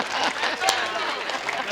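Applause from the audience at a Hindi poetry recital (kavi sammelan), a steady broadband wash of clapping through the whole short stretch, moderately loud with a brief louder burst near the middle.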